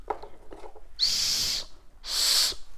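A small toy whistle from a childhood snack pack blown in two shrill, breathy bursts about a second each, close by, after a few faint soft sounds.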